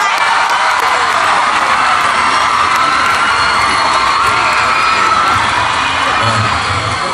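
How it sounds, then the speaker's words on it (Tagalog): A large audience at a comedy hosting event in Cagayan de Oro claps and cheers together, a dense, loud, unbroken roar of clapping mixed with shouts and children's yells, sustained throughout. "Pumalakpak po na may kasamang hiyaw nagsasabing maganda po si Lassie"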